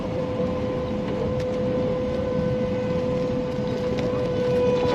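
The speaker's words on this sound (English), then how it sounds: "It's the tornado siren." Tornado siren wailing during a severe storm, a steady sustained tone heard from a distance through vehicle background rumble, continuous throughout with no speech.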